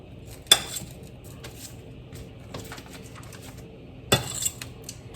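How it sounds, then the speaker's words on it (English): Fork tapping and clinking against a dish while cutting butter into chunks for a blueberry crumble, two sharp clatters about three seconds apart over quiet kitchen background. "I'm gonna cut this butter. Okay, hang on. Put it in there into some chunks."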